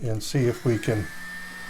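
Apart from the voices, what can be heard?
mini blower blowing air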